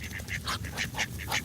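Ducks quacking in a rapid series of short, nasal calls, close and fairly loud, with no talking over them.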